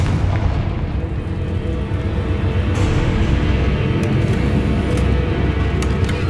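Confringo fire blast spell in Hogwarts Legacy, a sustained, heavy rumbling explosion with a deep booming roar that stays loud throughout, with no voices.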